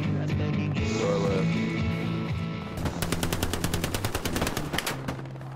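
Gunfire erupts in the World War II shooter Hell Let Loose: after a stretch of rumbling battle noise, a rapid, loud machine-gun burst rattles out in fast even rounds, close by and without any talking.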